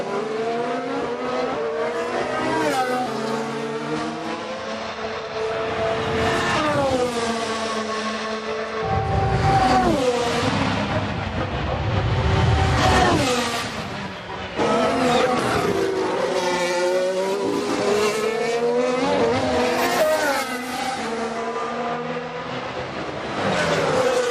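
Formula 1 cars lap Monza during a practice session, high-pitched engines screaming past one after another with rising and falling tones, loud and continuous, with brief low rumbling between passes.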